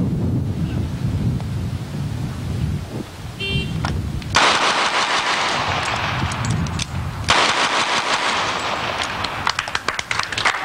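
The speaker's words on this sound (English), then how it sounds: "Target on the left, 12 shots." Rapid string of twelve gunshots fired at a target on the left during a timed shooting drill, sharp loud reports in two dense bursts with wind noise over the microphone.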